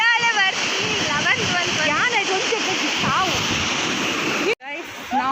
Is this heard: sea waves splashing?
yes